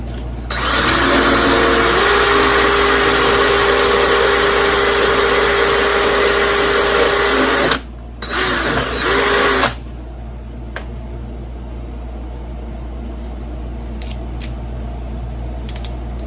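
Power drill running with a 5/32 inch bit while working on a stuck bolt, a loud steady whine for about eight seconds, a brief stop, a short burst, then quiet.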